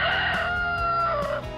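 A rooster crows a single loud, close cock-a-doodle-doo, a drawn-out rising and falling call heard alone.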